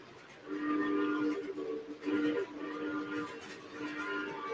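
SP6 train horn chime in a train video game, a few bright harmonic blasts sounding in bursts with short gaps, fairly loud and alone.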